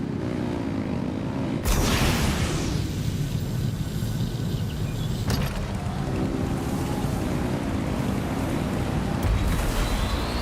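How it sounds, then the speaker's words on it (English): Boat engines revving in the video game Genshin Impact, a loud rushing roar with a wavering engine pitch, broken by sudden bursts of wind and water noise. "Rev the engines!"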